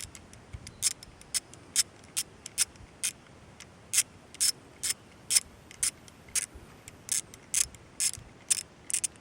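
A 1/8 hex key turning a screw while removing the trigger of an S&W 22 Victory pistol, with a steady series of crisp ratcheting clicks at an even rhythm, close and fairly quiet.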